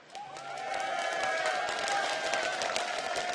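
Crowd cheering and applauding at an esports event for the team Azubu Frost, a sustained swell of clapping and cheers filling the hall for several seconds at steady moderate volume.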